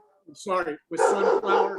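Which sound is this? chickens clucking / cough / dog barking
dog barking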